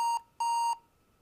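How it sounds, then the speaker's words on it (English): Two steady electronic beeps from an HP Stream 11 laptop at the BIOS setup screen, a longer second tone following a short gap, clear and close with no talking. "It's got an old school beep to it, doesn't it?"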